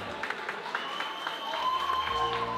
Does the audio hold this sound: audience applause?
yes